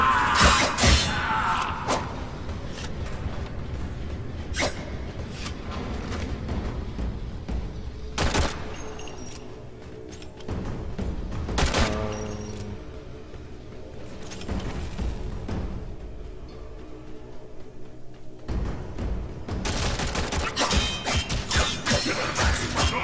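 In the Warframe video game, a character repeatedly strikes a large digging machine, producing loud crashing impacts and bursts of rapid gunfire-like hits over a rumbling game soundscape, with quieter stretches between the clusters of blows.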